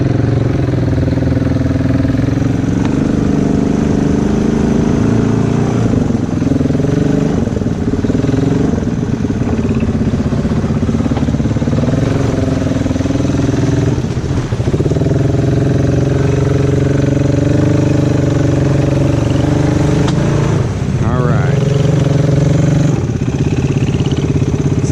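An ATV with a 300 engine idles steadily after a mud run, a low continuous rumble with a slightly uneven, clattery note that holds close and loud throughout, without talk.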